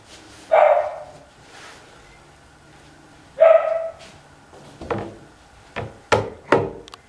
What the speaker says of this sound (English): It's a barking noise.